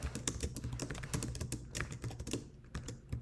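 Rapid typing on a computer keyboard during a LaTeX speedrun game, close and busy with irregular bursts of key clicks that thin out briefly before resuming.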